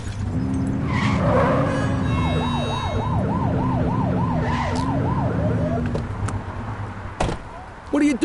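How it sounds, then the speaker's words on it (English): A police car siren in the video game The Precinct wails in a repeated rising-and-falling sweep, loud and close, with engine and road noise beneath, then cuts off before a few thuds near the end. "Get on their tail and flip the siren"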